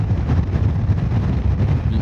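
Strong wind buffets the microphone of a Honda NC750X motorcycle on a highway, a loud continuous low roar and rumble with no talk.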